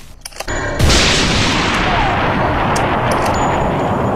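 Gunfire in the video game Candy Mountain Massacre Revenge: a brief spattering of small shots, then a loud booming blast that rolls on as a dense, sustained roar of fire to the end, with no voices.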